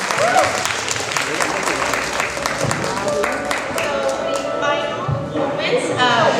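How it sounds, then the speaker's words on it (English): Audience applause at a community event, steady clapping from a crowd with some talk and stray taps mixed in, fairly loud throughout and swelling again near the end. "Give a round of applause."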